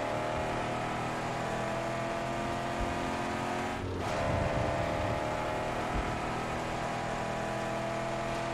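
Car engine in the Mad Max video game, driving and ramming another car aside: a steady, loud engine drone is broken by a quick swooping pitch drop and a low thud partway through before the drone resumes, with no talk.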